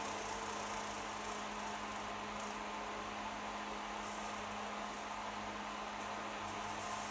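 A Eurolite NH-10 hazer runs with a steady, broad hiss of escaping vapour, close and continuous, with a faint low hum beneath and no voices.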